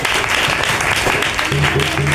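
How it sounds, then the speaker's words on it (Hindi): A Sunday church service congregation claps together in sustained, fairly loud applause, with voices mixed in. "आप बजाइए ताली"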